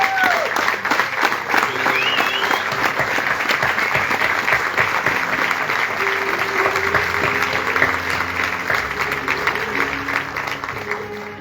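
A theatre audience applauds steadily at the curtain call of a stage play, a dense, loud, sustained wash of clapping that holds for about eleven seconds, with faint tones and voices underneath.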